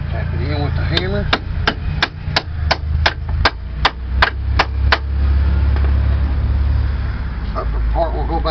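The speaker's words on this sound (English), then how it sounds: "Tap it in with the hammer." Hammer tapping a car strut into place during a suspension strut replacement: about a dozen sharp, evenly spaced metallic taps in a steady rhythm, close up, with a low background hum and some faint talk.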